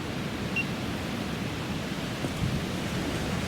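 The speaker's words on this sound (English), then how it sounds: "it's blowing a hoolie over there" Strong wind roars at Lac d'Orient lake, a continuous broadband rush through the trees with rough waves on the water and no voices.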